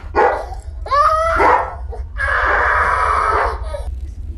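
A dog barks loudly and repeatedly in a house at night in the horror film Paranormal Activity, sharp yips rising into a sustained agitated bark over a low steady hum.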